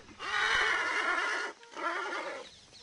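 At a horse breeding stud for Arabian and thoroughbred stallions, a horse lets out two loud whinnying neighs in close succession, the first long and the second shorter.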